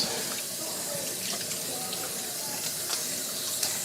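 Tap water runs steadily over lettuce leaves at a kitchen sink during party food prep, a continuous close hiss and splash with small irregular spatters and no talking.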